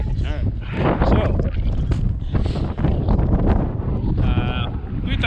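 Strong wind buffeting the microphone on a frozen lake, a loud continuous roar and rumble throughout, with people talking under it.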